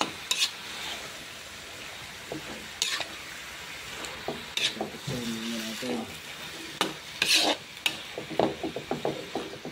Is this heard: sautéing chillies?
yes